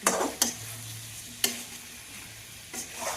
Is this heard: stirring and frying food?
yes